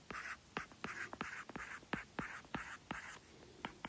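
Rhythmic marker or chalk strokes on a board while a teacher writes numbers, a quick series of close taps and scratchy squeaks over soft room tone, with no talking.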